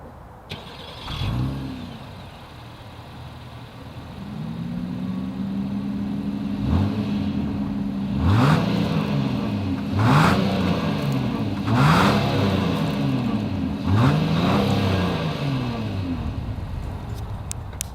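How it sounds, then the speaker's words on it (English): A 2022 Acura MDX SUV engine idles, then revs up repeatedly in a series of strong bursts, each rising and falling. The exhaust is close and loud, with no talking. "As always, here is that exhaust clip."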